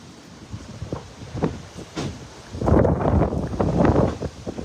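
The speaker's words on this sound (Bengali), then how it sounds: "সাজেকে প্রচুর বাতাস" Strong gusting wind at the hilltop of Sajek buffets the microphone in uneven bursts, rising into louder, rougher rumbling gusts in the second half.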